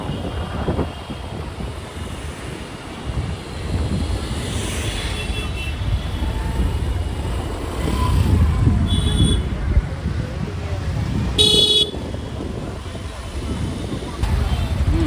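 Daytime road traffic near Srisailam dam rumbles steadily under wind buffeting, with a couple of short, sharp car horn blasts standing out partway through.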